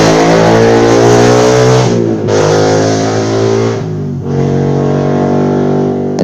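A loud motor vehicle engine roars close by, revving and passing with shifting pitch, drowning out everything else for several seconds.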